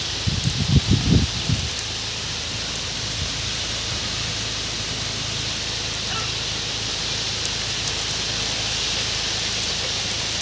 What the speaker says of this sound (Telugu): ఇప్పుడైతే వర్షం వస్తుంది చూడండి